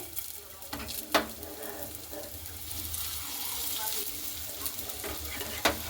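Flour (atta) snack pieces fry in hot white oil, a soft continuous bubbling sizzle with a few sharp clicks and pops, fairly quiet and close.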